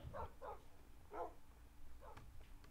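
Several Minecraft dogs barking in short separate yaps, a quick pair, then a single bark and another near the end, fairly faint over a low background hum.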